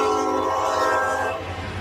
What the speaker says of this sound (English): a louder air horn than anybody else around